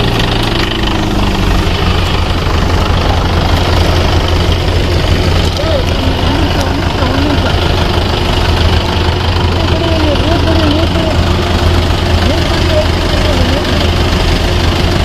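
Vehicle stuck in a 3–4 foot pit in a farm field, its engine running with a loud, continuous rumbling drone and vibration, while people talk nearby.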